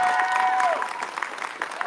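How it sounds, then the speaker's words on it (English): Audience applause at a Sonic Unleashed panel at the Huntsville Pop Culture Expo 2025, a steady crowd clapping over about two seconds with a sustained tone fading out under it. "give me a big hand clap for them, please"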